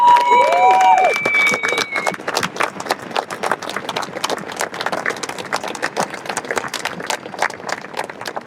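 A crowd at a UK farmers' protest against inheritance tax reform claps steadily, with a brief tonal sound at the start, and the applause continues loudly throughout.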